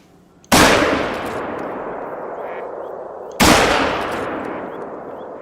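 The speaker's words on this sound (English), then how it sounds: "I know this is overkill, but we're gonna use the rifle." Two heavy rifle shots ring out in theHunter: Call of the Wild, each a sharp, loud crack followed by a long rolling echo that fades slowly, spaced about three seconds apart.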